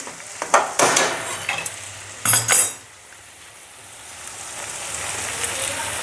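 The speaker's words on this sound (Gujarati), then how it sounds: "હવે અંદર સાબુદાણા નાખી દઉં" Soaked sabudana (tapioca pearls) tipped into a pan and stirred: several scraping clatters and spoon knocks in quick bursts over the first few seconds, then a quieter low sizzle carrying on alone.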